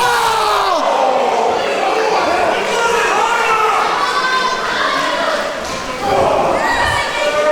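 A wrestling crowd at the MWF Catalyst II live event cheers and yells in a loud, continuous roar, with a commentator talking throughout.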